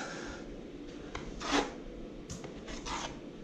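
A filling knife scrapes leftover bits of dried filler off a ceiling over scrim tape, with several short rough rasping strokes close by against low background hiss.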